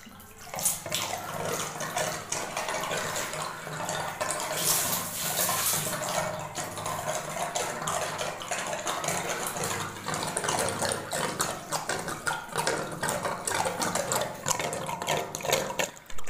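Water rushes steadily out of a drained water heater geyser, a continuous loud splashing gush like a running tap that holds for the whole stretch with no talk.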